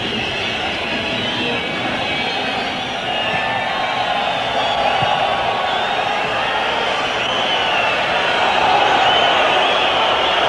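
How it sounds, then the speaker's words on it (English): A football stadium crowd at a 1986 World Cup match between Morocco and Germany: a loud, continuous roar of massed cheering and whistling that swells slightly toward the end. "this is the crowd's understandable reaction"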